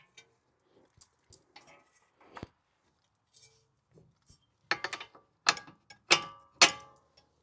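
A ratchet tightens the axle bolts on a Toyota RAV4, heard as sparse ticks that build to several loud, close clusters of rapid pawl clicking near the end.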